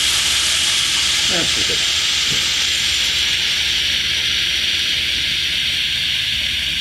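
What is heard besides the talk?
beet and broccoli rabe noodles searing in a hot pan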